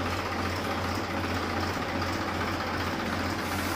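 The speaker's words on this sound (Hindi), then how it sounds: "ट्रैक्टर करवाते हैं स्टार्ट" A 2010 Massey Ferguson 241 DI three-cylinder tractor sits running at idle, a steady low diesel thrum with a fine knocking texture, close and continuous throughout.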